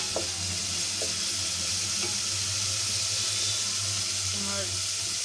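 Whole raw spices, including ground cardamom, fry in a pan for a beef curry, giving a steady low sizzle with a few faint clinks of stirring and no talk.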